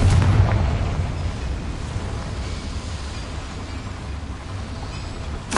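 A Confringo fire spell explodes in the video game Hogwarts Legacy: a loud, close boom at the start that fades into a long, rumbling decay, with a brief sharp burst right at the end.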